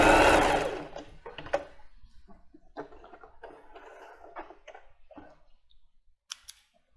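A domestic sewing machine backstitches while sewing plus-size panties: a brief loud burst of stitching, then short bursts of whirring and clicking and small handling noises, with no talk.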